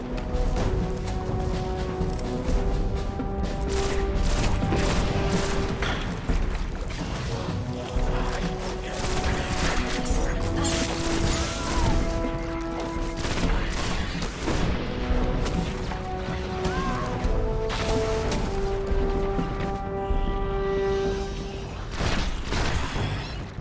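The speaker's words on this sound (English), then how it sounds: "Getting bombed from above." Bombing in the video game Destiny, with dense, continuous rumbling explosions and crashes that stay loud and overlapping under a layer of tonal game music, no clear pauses between blasts.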